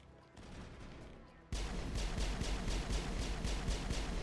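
Rapid pistol gunfire in the Mass Effect 1 video game during the Virmire mission, a steady string of sharp shots over a dense battle din, starting after a quieter stretch of ambient combat noise.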